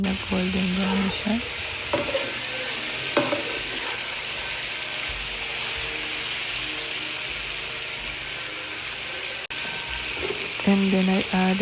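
Garlic and onion sizzle and fry in a pan for pork adobo while a utensil stirs and scrapes against it, with a steady crackle and a few clattering knocks at the start and end.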